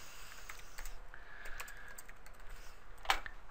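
Light taps on a computer keyboard enter a short comment. The key clicks are faint and sparse over quiet room noise, with one sharper keystroke near the end.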